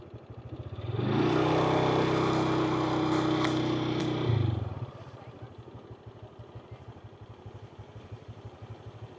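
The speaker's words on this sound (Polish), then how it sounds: "Motorem przez kep. A, skuterem przez kep." A scooter rides through Kep, Cambodia: its engine swells loud and close for a few seconds, then drops back to a quieter rattling idle, with faint voices nearby.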